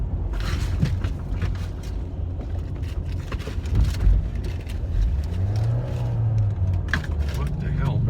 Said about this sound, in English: It's a lot more traffic than I expected to see right here.